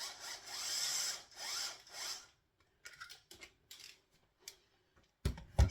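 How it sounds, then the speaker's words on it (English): A power drill runs while stripping heavy duty cable, a rough buzzing whir for about two seconds followed by scattered scraping, rubbing and clicking, then a sharp knock near the end; close and fairly quiet, with no talk. "I should be doing a lot more of that with the drill from now on"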